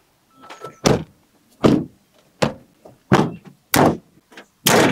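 Car doors of a 2025 Honda Amaze and a 2025 Maruti Dzire being shut, six loud, close, solid thuds spaced roughly a second apart, each with a brief rattle before it.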